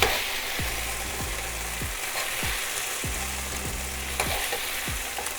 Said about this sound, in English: We are going to use the same pot to cook the onion and the broccoli.